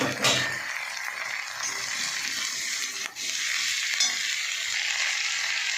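Capsicum and tomato hit onions already frying in a pan, setting off a loud, dense sizzle that holds steady, with a brief clatter of a utensil partway through and no speech.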